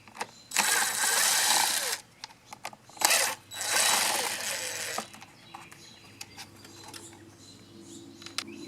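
Screws come out of the plastic cover on a small two-cycle mini tiller with a Torx star bit, giving bursts of whirring driver noise and ratcheting clicks, loud and close, separated by short pauses and quieter handling sounds.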